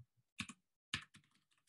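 Keys clack on a computer keyboard as kubectl commands are entered, with a short burst of close strokes, a pause, then another quick run of lighter taps trailing off.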